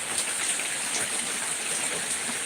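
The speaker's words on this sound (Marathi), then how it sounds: "आमच्या इथं सध्या खूप पाऊस चालू आहे" Steady rain hisses evenly throughout, a dense wash of falling water with no pauses and no voices.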